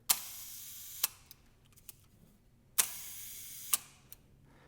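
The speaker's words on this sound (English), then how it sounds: "This is an old shutter." An old large format camera shutter set to 1 second fires twice, each time a sharp click opening and another closing about a second later, close and crisp in a quiet room.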